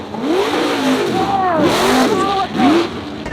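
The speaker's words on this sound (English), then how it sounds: "I got a motor on my bike." An 80cc motorized Walmart bike engine accelerating, a loud close buzzing whine that rises and falls in pitch through several revving surges over a few seconds.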